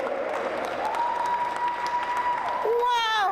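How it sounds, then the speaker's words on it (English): Audience clapping at an opera company's opening reception, moderate and continuous while a sustained singing-like voice tone holds over it, with a voice speaking near the end. "Y'all should not stop clapping."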